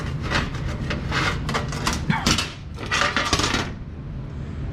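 A square file rasps back and forth, squaring the corners of drilled 5/16 holes in a metal swath board for a Sears Suburban sickle mower, giving close, busy scraping and metallic scratching in uneven strokes.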